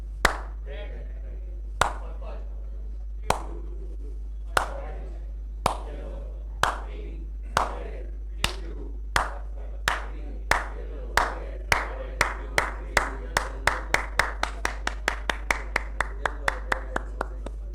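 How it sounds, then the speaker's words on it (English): Sharp hand claps ring out in a lecture hall during a creativity and innovation talk, starting widely spaced and steadily quickening into a rapid, tight train of claps that carry alone and clearly. "You can clap for yourself."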